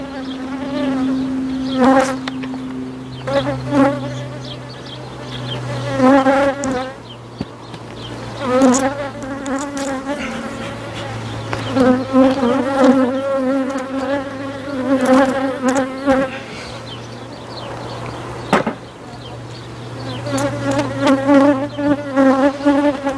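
A honeybee swarm being moved into a nucleus hive, giving a loud, continuous buzzing drone of many bees close to the microphone, with individual bees whining past and no talk.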